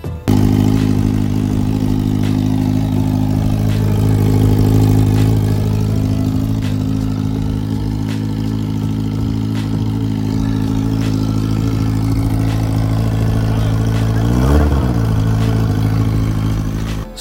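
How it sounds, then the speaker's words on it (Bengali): A Kawasaki Ninja 1000 superbike with no exhaust muffler runs loud and close, a steady throbbing drone with a sharp rev surge near the end. "এক্সস্ট ছাড়া সুপার বাইকের সাউন্ড প্রচণ্ড লাউড হয়"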